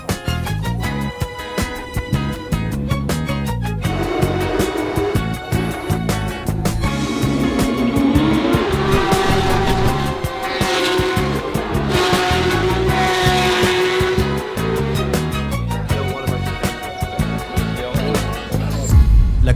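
A Formula 3 race car drives on a privately booked circuit near Monaco, its engine rising and falling through gears in a loud, continuous buzzing drone with no talking.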